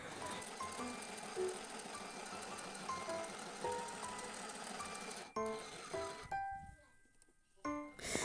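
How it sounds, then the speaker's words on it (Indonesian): A home sewing machine stitches a pair of trousers that were too long, running in a fast continuous whir with brief pauses and restarts near the end, close and fairly loud with no talking. "kebetulan aku ada mesin jahit, jadi aku mau coba potong sendiri dan aku mau jahit sendiri"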